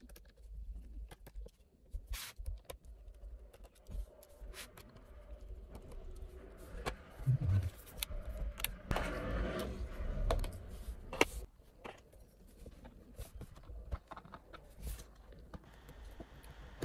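Screws being removed from the bottom cover of an Acer Predator laptop, with scattered light clicks and small metallic ticks from the screwdriver spread irregularly over a long, quiet stretch.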